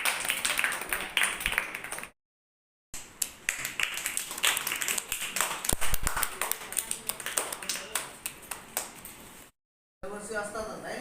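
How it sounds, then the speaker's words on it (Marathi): A group of students at a summer class claps to welcome visitors, with brisk, close handclaps in several bursts separated by brief silent gaps. "सगळ्यांनी एकदा जोरदार टाळ्या वाजवायच्या."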